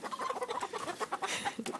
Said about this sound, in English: Pick a chicken, any chicken.